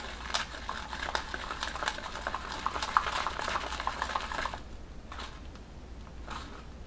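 Sticky clicking and smacking of fermented chickpea natto being stirred in a container, a rapid irregular patter of close, fairly quiet wet clicks that thins out near the end.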